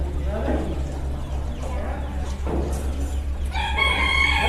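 Chickens at the O'Brien County Fair poultry show, with fowl sounds under steady hall noise and people talking, and a loud rooster-like crow near the end.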